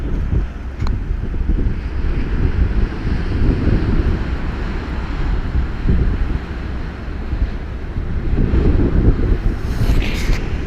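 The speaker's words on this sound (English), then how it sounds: "it's a bit blustery, a bit cold" Blustery, cold seaside wind buffets the microphone in a steady low roar with gusty swells, and faint surf may sit beneath it, with no talking.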